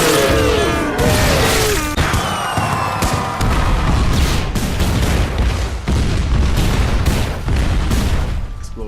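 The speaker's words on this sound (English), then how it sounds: "Exploding animals." Rapid loud booms and crackling blasts of exploding animals in the Super Exploding Zoo video game, a dense continuous barrage with bright chiming game effects layered on top.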